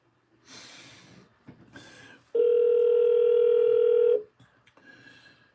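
A phone call placed through Alexa gives a single long, steady ringback tone, loud and clear, with faint breathing and small rustles before and after it.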